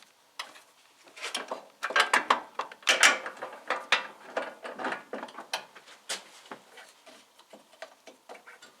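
A hand ratchet clicks in quick irregular bursts while the bolts on a Porsche 944 front stabiliser are tightened. The pawl ticking is close and crisp, with short pauses between strokes.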